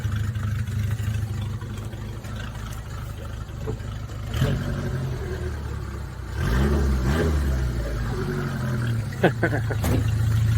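Suzuki engine running with no muffler, a close rough idle that rises into louder, harsher revving near the end, with a person talking briefly over it.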